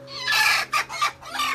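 A brooding hen settled on her eggs in an old earthen farmhouse in Konkan gives several close, loud clucking calls in short bursts, alone without talk.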